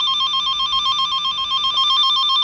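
A cable toner's steady electronic tone sounds through a probe receiver, a continuous two-pitched warble held without a break.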